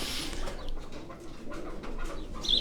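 A racing pigeon, a Jeth-season flyer scored over eleven flights, is heard amid outdoor loft noise: soft cooing and fluttery bird calls close by, over a steady background hum with no talk.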